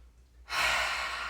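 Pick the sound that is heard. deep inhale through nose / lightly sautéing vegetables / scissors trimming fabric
deep inhale through nose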